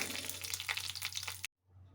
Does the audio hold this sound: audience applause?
no